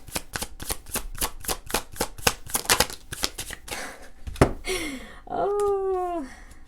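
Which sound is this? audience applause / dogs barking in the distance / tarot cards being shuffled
tarot cards being shuffled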